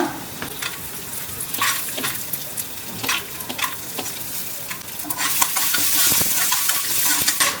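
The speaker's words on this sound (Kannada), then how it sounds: "ಕಡಲೆಕಾಯಿ ಬೀಜ ಚೆನ್ನಾಗಿ ಹುರ್ಕೊಂಡ್ಮೇಲೆ ಅದು ಪಟ್ಪಟ ಅಂತ ಸೌಂಡ್ ಬರುತ್ತೆ ನೋಡಿ" Peanuts roast in a pan with fenugreek, crackling and popping as they are stirred, with scraping and small pops throughout and a denser sizzle toward the end, close and clear with no talking.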